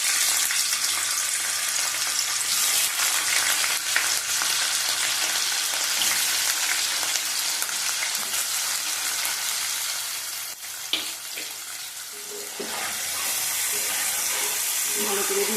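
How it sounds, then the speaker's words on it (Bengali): Cut paneer cubes frying in a pan, a steady broadband sizzle running loud and close throughout, with a brief clink partway through and a slight dip in intensity toward the end. "পনির কেটে রেখেছি, পনিরটা ভেজে নেবো"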